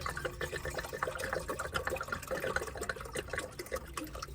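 Water poured from a jug into a cup, a steady close trickling and splashing stream that lasts throughout, with no talking.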